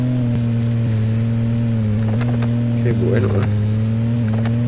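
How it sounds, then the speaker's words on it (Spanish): Car engine in the Vertigo Racing mobile video game with a buzzy, scooter-like whine, a steady droning hum with slight pitch shifts, loud and continuous under a brief spoken remark. "Pero el sonido suena así como Vespa."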